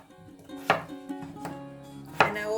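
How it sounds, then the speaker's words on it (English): Three knife chops through potato into large chunks on a cutting board, spaced apart, crisp and close with a faint background hum between strikes. "just cut your potato into big chunks"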